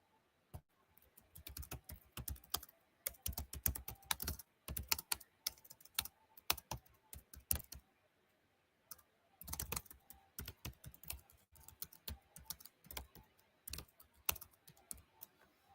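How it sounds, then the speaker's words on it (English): Rapid, uneven keystrokes on a computer keyboard, typed close up in bursts with a brief pause partway through, alone with no talking. "Just typing up a little note to the coaches"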